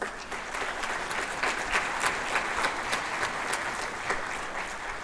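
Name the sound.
audience applause at a middle school jazz concert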